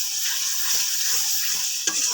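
Chopped tomato fries with spices in a pan with a loud, constant sizzle and crackle, while a spatula stirs through it in soft scraping strokes.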